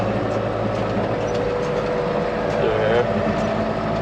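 A tractor drives across a hot field pulling an Esch tedder, its engine a steady, close, continuous rumble with mechanical drone and no break.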